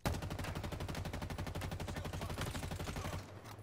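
Rapid pistol fire in the Halo Infinite video game, a fast even string of about two dozen close, loud shots that ends abruptly.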